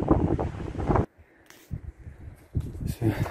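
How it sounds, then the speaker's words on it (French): Strong gusts of wind buffet the microphone in loud rumbling bursts at a viewpoint over the Loire gorges, dropping briefly to quieter stretches between them. "Il y a du vent."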